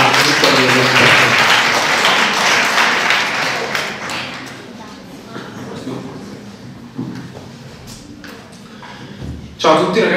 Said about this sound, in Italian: Facciamo un applauso a Vittorio Cantari.